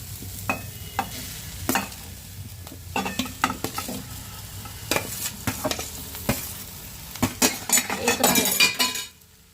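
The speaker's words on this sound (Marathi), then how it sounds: "आणि त्याच्यामध्ये आता बटाटो घालून घेणार आहे।" Potatoes tumbled into a hot pan for a Marathi yellow potato bhaji, sizzling steadily while a spoon stirs and clinks against the metal in repeated sharp scrapes, busiest toward the end before cutting out.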